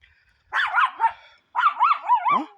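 Rottweiler barking in a yard, two close, loud bursts of several rising and falling barks and whines, separated by a short pause.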